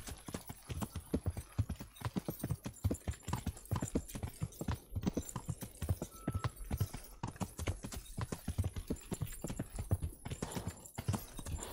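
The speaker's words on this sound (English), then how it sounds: "Good job, horse. You managed to jump" Horse hooves in Kingdom Come: Deliverance clip-clop steadily at a brisk gait, close and continuous, with soft background ambience and no talk.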